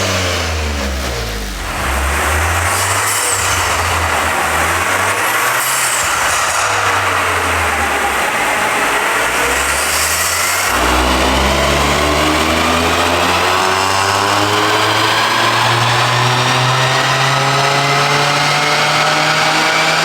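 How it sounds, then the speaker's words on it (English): Toyota GR Corolla on its stock catback with an aftermarket downpipe idling steadily after startup, a low throaty drone with a brief dip and a rise in revs, close and loud throughout with no talk. "we're gonna give you a little startup clip, of the OEM exhaust, OEM catback with the downpipe"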